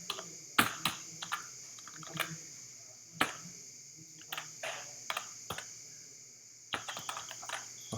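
Quiet keystrokes on a computer keyboard while someone types a phone number and an email address, coming in short irregular clusters of clicks with pauses between them.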